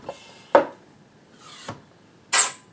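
A Kemimoto 6 L oil extractor pump is worked by hand to build suction, giving a few separate short hissing, scraping pump strokes spaced out over a quiet background, each one close and sharp. No one speaks.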